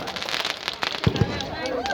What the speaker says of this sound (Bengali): একদিকে চলছে আতশবাজি, পায়রাগুলি ভয় পেয়ে যেতে পারে